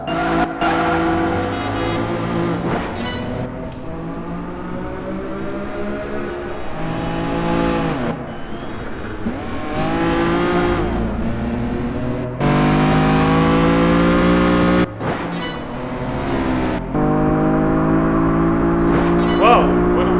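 Lamborghini Diablo lapping a circuit in Project Gotham Racing 4, viewed from outside: a loud, sustained engine roar with rising and falling revs through gear changes and corners, steady throughout with brief dips.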